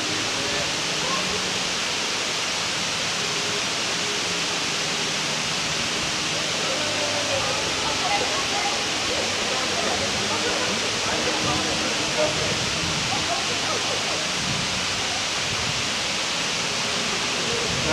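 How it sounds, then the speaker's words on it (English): Steady broadband rush of the indoor waterfall at Dubai Mall fills the scene, a constant wash with faint voices drifting underneath. "This is the waterfall."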